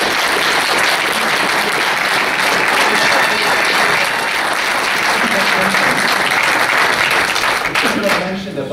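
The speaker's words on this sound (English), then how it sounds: "if I could ask again for a round of applause for Bobby Redington" A crowd at a police retirement walkout ceremony for officer Bobby Redington gives a long, loud, dense round of applause that stays steady throughout before thinning slightly at the end.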